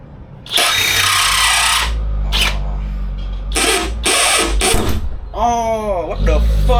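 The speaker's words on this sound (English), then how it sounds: "one drill bit gone after I did just two" A power drill whines in loud bursts, stopping and starting as it drills out rivets on a Honda CRX sunroof, with a voice speaking briefly between runs.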